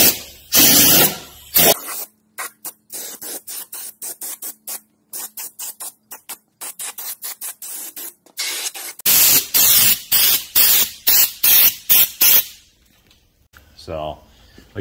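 Rust undercoating sprays onto the underside of a car in loud, sharp bursts of hissing aerosol, separated by short gaps and a longer pause, moving from the back of the vehicle forward.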